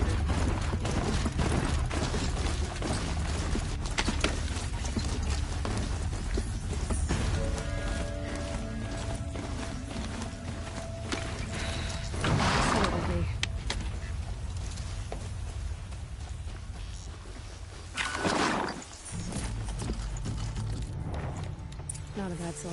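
Rhythmic hoofbeats of a galloping horse in Horizon Zero Dawn over a busy game soundscape with music and effects, steady throughout, with a voice speaking at times.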